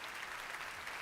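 An audience at the Google I/O 2026 developer keynote claps in a brief, steady burst of dense applause that fills the whole moment.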